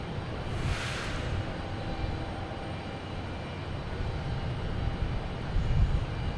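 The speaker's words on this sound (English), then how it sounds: "Here's JetBlue coming in from Pittsburgh in E190." A JetBlue Embraer E190 jet arriving from Pittsburgh lands at Boston Logan Airport. Its engine roar is a steady, broad rumble heard from a moderate distance, with no voices.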